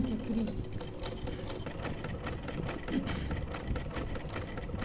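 Sewing machine running steadily while stitching fabric for a suit, a continuous close mechanical whir with a fast rhythmic pulse throughout and no talk.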